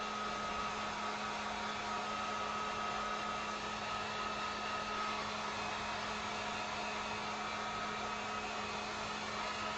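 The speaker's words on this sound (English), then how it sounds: "I'm going to come in with the heat gun here." A heat gun drying acrylic paint on a wooden sign gives off a steady, even whir and blowing hiss, unbroken for about ten seconds with no talking.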